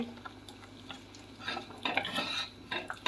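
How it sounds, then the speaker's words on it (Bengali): Date-palm jaggery being stirred into milky rice payesh in a pot, with soft irregular scrapes and knocks of a spoon against metal that grow busier toward the end over a faint bubbling, close by. "গুড় দিয়ে আবার নাড়বো, গুড়টাকে গলবে।"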